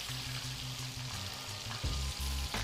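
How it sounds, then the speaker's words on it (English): Chicken pieces deep frying in hot oil in a wok, a steady crackling sizzle with bubbling close up, broken by a few low clunks of stirring or utensils. "You just make sure that you're deep frying safely, and see how crispy that's coming out now."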